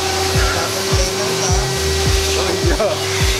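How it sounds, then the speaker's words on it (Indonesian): High-power vacuum cleaner running steadily during full car detailing of a Geely Panda LC 1.3, a loud continuous whine with speech heard over it. "high vacuum cleaner."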